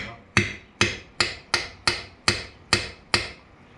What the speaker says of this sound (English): Let's get another chisel for the opposite side.